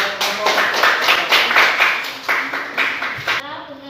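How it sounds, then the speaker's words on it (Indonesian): Several people in a classroom applaud a student group, a dense burst of close, loud clapping that thins into scattered claps before stopping abruptly. "kita berikan aplaus kepada kelompok"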